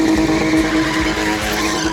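Rear tyres of a modified stunt car spin and skid in a sustained, loud screech, the engine roaring steadily underneath throughout, with no voices.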